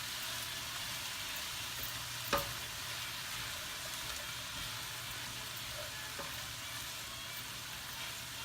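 Brown sugar pork chop sauce simmers in a pan with a steady, even sizzle throughout. One sharp clack of a utensil against the pan cuts in partway, and a fainter tap follows later. No one speaks.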